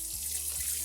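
Water poured from a container onto a couple of handfuls of cow manure fertilizer to soak it, a brief, soft, steady splashing trickle heard up close and alone.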